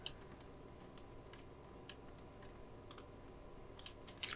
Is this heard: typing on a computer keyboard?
yes